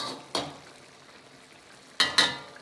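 A utensil scrapes and stirs Chengdu chicken frying in a pan, with three sharp clanks against the metal over a soft, steady sizzle.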